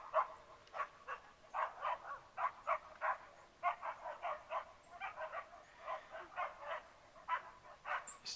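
Neighbours' dogs bark and yip in rapid irregular bursts at a distance, the faint, steady barking carrying on without pause.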